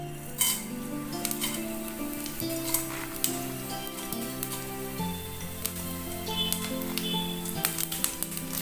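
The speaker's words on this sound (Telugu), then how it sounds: "ఇదిగోండి బాండి హీట్ ఎక్కింది, కొంచెం ఆయిల్ వేస్తున్నాను. ఇందులో ఇప్పుడు జీలకర్ర ఆవాలు," Cumin and mustard seeds sizzle in hot oil in a heated pan for pulihora, making a continuous close sizzle full of small crackles and pops, with a low background hum.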